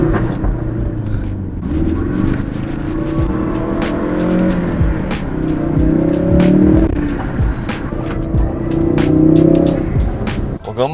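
A Ford Focus RS on BC Racing coilovers drives off, its engine rising and falling through revs with sharp clicks and knocks over the top, heard from inside the car.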